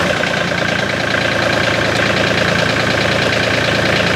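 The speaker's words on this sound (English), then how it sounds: "we'll test the motor." A TYM tractor engine runs steadily after a service, with a loud, even mid-pitched idle and a continuous mechanical hum close to the microphone.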